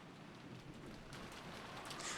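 Rain pours during a typhoon as a dense, steady hiss with a low rumble underneath, faint and distant, the wash of drops swelling slightly toward the end, with no voices.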